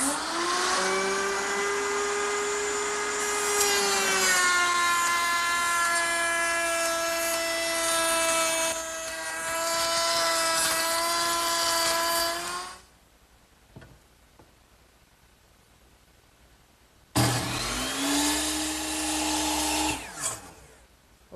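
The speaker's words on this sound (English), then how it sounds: "I'm going to use the same cutter that I used to make this edge on the top. I've got it set up in my router table," A router table spinning a molding cutter through wood for a hutch, a loud sustained high-pitched whine for about thirteen seconds, then quiet, then a second shorter burst of cutting.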